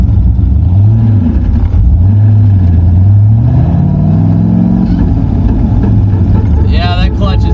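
A Mazda Miata with a newly fitted clutch revs up and down at a drag strip, its engine note rising and falling in loud, close sweeps, while a person talks briefly near the end.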